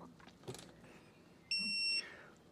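A torque wrench beeps once while tightening a motorcycle pinch bolt on a 2024 Harley-Davidson Road Glide: a single steady, high electronic tone lasting about half a second, fairly loud against a quiet workshop background after a brief knock.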